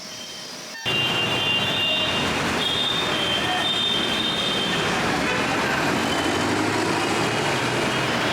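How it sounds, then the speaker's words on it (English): Busy road traffic in Kolkata: a dense, steady roar of engines and tyres with scattered horn toots, heard close up and continuous after an abrupt start. "Crossing the road is quite an experience. Still. Traffic in Kolkata."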